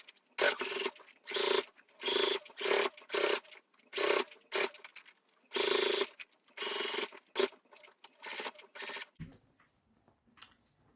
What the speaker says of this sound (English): you put it in your machine like a bowl, and then you can follow this stitch line around to do your edge stitching